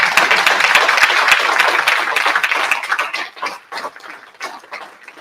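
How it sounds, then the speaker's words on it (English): An audience claps for Rep. Burleson and Dr. Adams at a live hearing on UAP science and national security. The applause is dense and loud at first, then thins into scattered individual claps as it fades over a few seconds. "a huge round of applause for Rep. Burleson and Dr. Adams."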